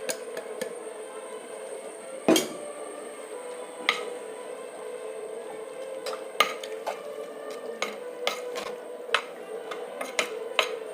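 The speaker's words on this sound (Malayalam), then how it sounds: "പരിപ്പിട്ട് വെജിറ്റബിളുമായിട്ടൊന്ന് മിക്സ് ചെയ്തു." Cooked lentils are stirred into vegetables sautéed in coconut oil in a pan, with a spoon scraping and clinking against the metal in irregular taps over a low, steady sizzle.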